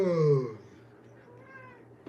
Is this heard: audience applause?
no